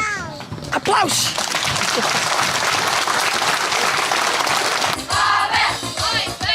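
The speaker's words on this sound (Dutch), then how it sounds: "Applaus!" Applause from a small crowd of children and adults rings out loud and sustained for several seconds after a sung line about an island paradise, with kids' voices and chatter mixed in.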